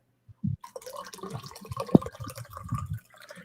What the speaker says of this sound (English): Just pouring some more coffee